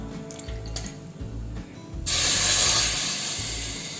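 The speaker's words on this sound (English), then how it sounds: "Little less than half cup I am adding the water." Water is poured into a pan of sugar to make sugar syrup, a short faint trickle followed by a louder steady hissing rush of liquid, close up with no talking.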